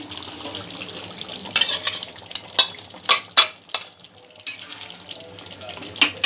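Paneer pieces added to a pan of frying vegetable korma and stirred, with a low simmering sizzle broken by several sharp clattering scrapes and knocks of a utensil against the pan, close and irregular.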